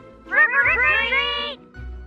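A cat gives one drawn-out, wavering meow of about a second, loud and close, in a Ring camera ad, with a soft low thump before and after.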